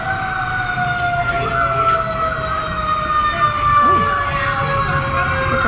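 Wailing emergency vehicle sirens sweep up and down steadily outside a Fort Lauderdale hotel, loud and continuous over open-air background noise.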